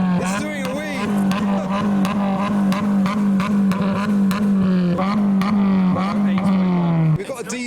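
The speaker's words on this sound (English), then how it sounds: "next up we have the Suzuki Swift trying to beat the Mark II Focus ST" A Suzuki Swift's engine is held at high revs during a rev battle, a loud, sustained buzzing drone with repeated blips and slight dips before the revs drop sharply at the end, crowd noise underneath.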